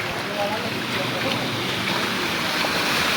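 Strong floodwater current rushing through a flooded residential neighborhood, a steady, loud broadband roar of churning water that fills the whole stretch without pause.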